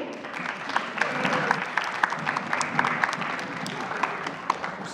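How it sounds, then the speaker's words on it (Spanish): An audience at a live stage show applauds steadily, a dense patter of many hands clapping with a few sharper claps standing out, sustained for several seconds. "Un aplauso"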